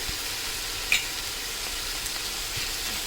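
Tomato and salt stirred into a pan while frying for a dry fish curry: a steady low sizzle with a sharp utensil clink near the start, close and fairly quiet, no talking.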